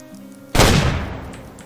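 A single loud rifle shot rings out in the Way of the Hunter video game during a goose hunt, a sharp blast at mid-clip followed by a long rolling decay over a faint background hum.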